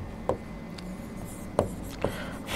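Writing on a board in a classroom lesson gives a few soft scraping strokes and light taps, irregular and close, over a faint background hiss without speech.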